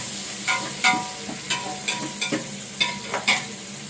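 Ingredients for seppankizhangu kuzhambu, a Tamil taro curry, are sautéed in a pan, with a spoon knocking and scraping in a steady irregular rhythm over a continuous sizzle, close up and with no talking.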